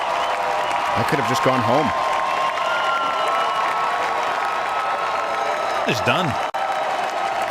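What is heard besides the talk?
audience applauding and cheering for a guest at a comedy show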